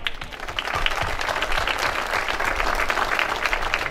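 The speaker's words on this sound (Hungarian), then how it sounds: "Nekik is jár a taps." Sustained audience applause for a majorette performance in Nyírbátor, many hands clapping densely and evenly throughout at moderate loudness.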